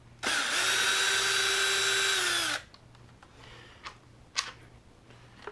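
A power tool on an X-Maxx RC truck's front section whines steadily for about two seconds while backing out a bolt, then stops, leaving a few faint clicks and handling noises.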